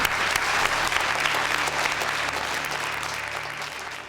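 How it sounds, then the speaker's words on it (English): Children in a primary school setting give a big round of applause, a dense, even roar of clapping that holds steady and tapers slightly toward the end, with no voices over it. "So give them a big round of applause."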